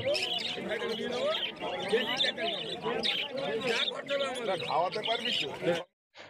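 Lutino Fischer's lovebirds and other caged birds chirp and twitter continuously at a busy bird market, a dense overlapping chatter with a voice talking over it.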